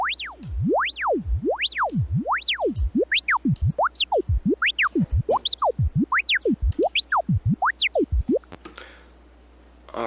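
Gated sine wave synth with a volume envelope, producing rapid pitch-sweeping tones that bounce up and down in quick repeated pulses, growing faster and choppier toward the end, alone with no talking.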